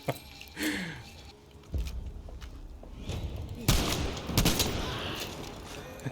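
Shotgun blasts in the Battlefield 5 video game, a few sharp, fairly loud reports spaced apart amid battlefield noise and scattered impacts, with no speech over them.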